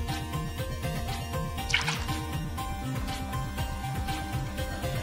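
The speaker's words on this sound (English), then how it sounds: "You're going to add a cup and about a half of milk." Whole milk poured into crêpe batter, a soft continuous liquid pour close by with a brief splashy burst midway, under a steady low background hum.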